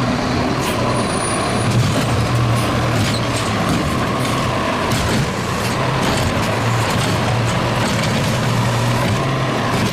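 A toy dump truck plays its sound effect: a steady, loud engine rumble with a continuous low drone and a short high hiss near the start, running unbroken throughout.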